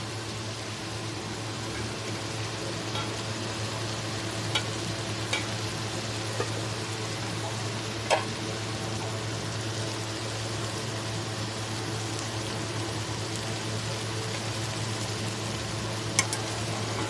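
Black chickpeas sauté in a pan for pulao, giving a steady, even sizzle with occasional faint clicks of stirring, with no talk.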